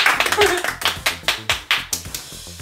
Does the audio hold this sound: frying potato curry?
no